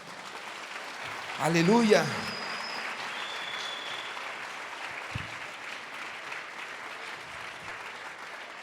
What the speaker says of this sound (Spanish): denle una ofrenda de palmas a Jesús